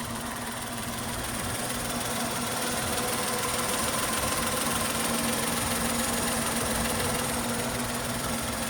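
A Tata Tiago car engine idles steadily close by, a constant low hum with a faint rhythmic knock and rattling vibration throughout.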